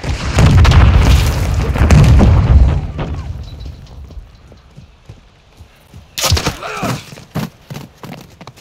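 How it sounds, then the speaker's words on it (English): A flash grenade detonates in Call of Duty Modern Warfare 2 during a Domination match on Taraq, with a loud, heavy boom rolling on for a couple of seconds, then quieter game noise and a burst of further blasts and clatter near the end. "Throwing flash grenade!"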